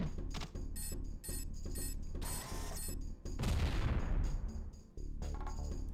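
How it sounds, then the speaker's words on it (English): A grenade goes off in the N64 shooter Armorines: Project S.W.A.R.M. A sharp burst lands midway through and fades in a noisy rumble, following a run of clicky mechanical game effects and rhythmic pulses. "Let's actually just throw a grenade inside."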